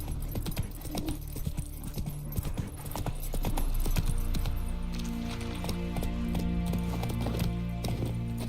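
Roach, a horse in The Witcher 3 game, gallops with rapid rhythmic clip-clop hoofbeats, close and steady, joined by jingling tack and a brief whinny over a low musical background.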